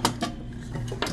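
Stacked metal cooking pans from a camp mess kit clatter together in a few quick, sharp knocks and rattles, close by and fairly loud, with no talking.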